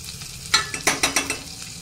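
Butter dropped into hot oil in a wok for pav bhaji sizzles and crackles in a few close, sharp bursts with soft stirring between them, without any voices.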